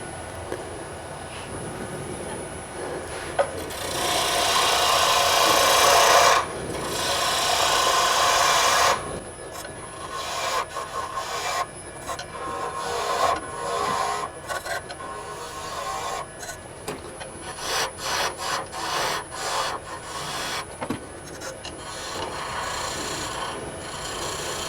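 A wood lathe spins at about 1800 RPM while a tool shapes a wooden bottle stopper: a loud, sustained hissing cut at first, then a run of short, rhythmic scraping bursts as the tool touches on and off.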